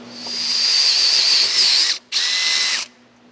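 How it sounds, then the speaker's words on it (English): A power drill drilling out a broken bolt on a GMC motorhome exhaust manifold whines at high speed, stops briefly, then runs again in a second burst before cutting off, loud and close. "That means I got to drill it out, retap the hole."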